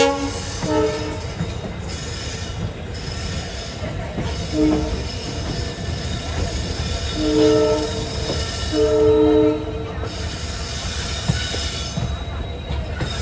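A passenger train pulls out of Madurai bound for Rameswaram, a steady rumble of rolling wheels and wagons with faint squeals and a drawn-out horn, heard from on board amid constant background noise.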